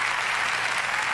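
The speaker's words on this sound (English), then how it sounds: "Thank you for the applause." Short burst of steady crowd applause, a dense even patter of many hands clapping at moderate volume with no talk over it.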